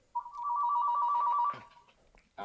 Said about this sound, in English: Uh-oh, Greg's got a secret phone call.